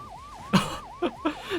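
Police car siren in the Neverness to Everness video game, a wailing tone rising and falling steadily and close, cut by several short loud crash-like impacts.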